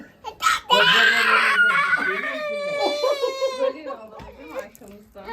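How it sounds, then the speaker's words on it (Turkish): A small child cries loudly and sobs in a home setting, a long wailing burst tapering into whimpers, with adult voices talking around it. "Çok ağladı baba."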